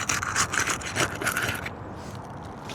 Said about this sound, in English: I'm going to start by scraping the glue strip and loosening these shingles